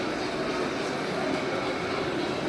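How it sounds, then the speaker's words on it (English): A model train runs around its track at a model train show, a steady soft rumble and whir heard from a short distance for a few seconds. "There's another train over there that's going to come around the track"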